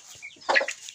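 An adult hen clucks a few short, close notes during a move of chickens, one brief burst of squawky calls in a quiet space.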